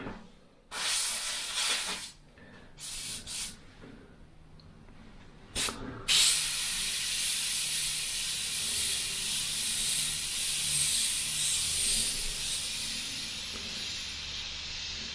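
A Richpen 112A 0.2mm airbrush sprays paint in short hissing bursts, then settles into a long continuous hiss, close and crisp.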